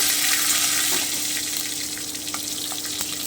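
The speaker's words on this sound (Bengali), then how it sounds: "তেলটা একটু গরম করে নিচ্ছি আমি আঁচটা কমিয়ে দিচ্ছি আমি রাঁধুনি শুকনো লঙ্কা তেজপাতা দিয়ে দিচ্ছি" Dried red chillies and bay leaves sizzle in hot oil over a lowered flame while a Bengali bottle gourd shukto is being started, a steady close crackling hiss with a few faint pops.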